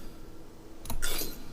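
A click-clacking X-Acto knife sound used as a blaster onset, a couple of quick sharp metallic clicks followed by a brief bright burst, fairly faint and alone.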